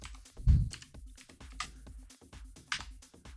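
Someone types a captcha on a computer keyboard during an online voter list check, with a series of soft, irregular key clicks and taps, close by and quiet, with no talk.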